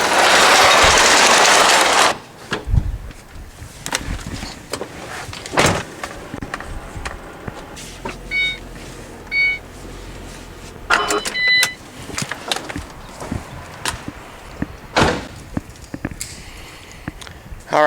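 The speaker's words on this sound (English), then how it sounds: "we're gonna get these trucks cleared out of this shop here" Trucks being driven out of a workshop during an office addition build: engines idling and moving, doors thudding shut, warning chimes and scattered clunks, with occasional talk.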